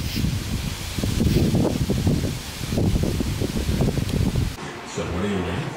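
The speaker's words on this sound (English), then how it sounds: "Just feel that fucking gust coming through." Strong wind gust during Tropical Storm Laura, a broad roaring rush that swells and eases in waves for about four seconds before dropping to a quieter tail.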